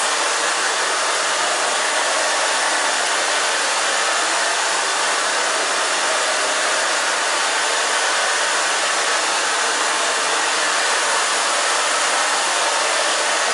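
A hair dryer blows steadily while hair is being blow-dried after an asymmetrical bob haircut, a loud, constant, close airy roar with no break and no talking.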